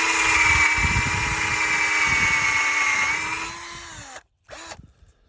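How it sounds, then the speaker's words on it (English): A power drill whirs with a steady high whine for several seconds as it slowly bores into a maple tree for syrup tapping, then slows, stops, and gives one short final burst. "And you want to drill very slowly so that there's no pull."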